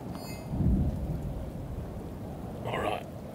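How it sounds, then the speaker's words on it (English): Steady rain with a low rumble of thunder in the video game Shadows of Doubt, a constant wash with a deeper swell near the start and another burst toward the end. "I'm walking in the rain."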